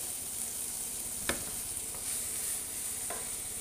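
Peppers fry in a home kitchen pan with a steady, close sizzle, broken by a couple of sharp clicks from stirring.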